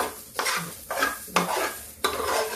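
Broken wheat (dalia) roasting dry in a pan is stirred in four scraping sweeps, each a gritty rustle with a faint sizzle, close and steady with no talk.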